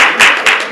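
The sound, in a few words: clapping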